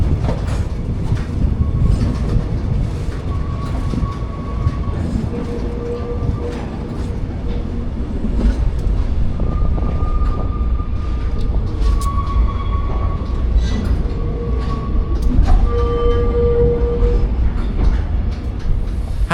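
Passenger train rolling along a museum rail line past a string of weathered old rail cars, with a steady rumble of wheels, clickety-clack rhythm and occasional faint squeals throughout.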